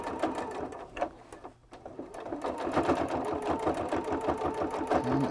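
A sewing machine stitching slowly over a thick blue jeans seam while hemming, a brief pause near the start, then a steady close rhythmic mechanical chatter that builds in pace.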